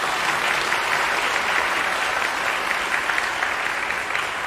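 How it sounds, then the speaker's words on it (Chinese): Concert audience at a Thanksgiving stage performance giving warm applause, dense sustained clapping from a large crowd, loud and steady for the whole stretch. "我们再给他们一个热烈的掌声吧。"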